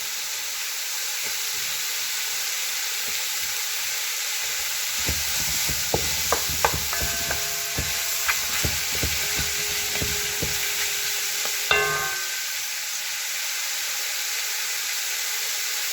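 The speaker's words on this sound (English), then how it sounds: "Guys, you can hear this sizzling." Steady loud sizzling of green beans frying in a pan, close up, with scraping and clinking from stirring in the middle.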